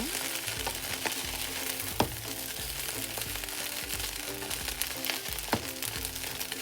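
Fried rice with sausage is stirred in a hot pan using two spoons, producing a continuous close sizzle broken by repeated scraping and clanking strokes at an uneven rhythm, with no speech.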